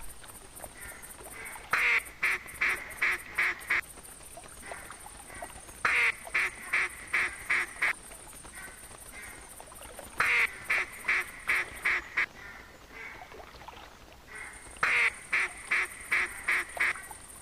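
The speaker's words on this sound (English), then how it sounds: "I can hear ducks coming now, and as you see, I am still calling." Ducks quack repeatedly in theHunter hunting game, arriving in bursts of four to six rapid calls every few seconds, fairly close and clear over a steady outdoor ambience, with no talking.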